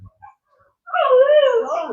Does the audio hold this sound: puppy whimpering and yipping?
yes